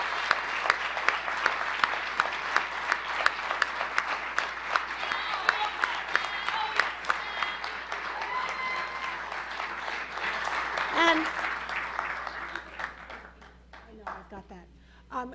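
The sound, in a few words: round of applause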